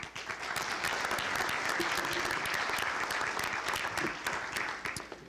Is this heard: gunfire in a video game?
no